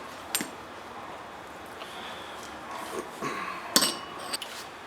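Steel and fiber clutch plates are stacked into a Ford 8.8 Trac Lok limited-slip differential, giving a few faint, sparse metallic clinks over a quiet background.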